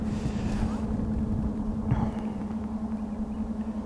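A battery-powered electric boat motor runs at half throttle on a lake, giving a steady low hum with light wind and water noise throughout.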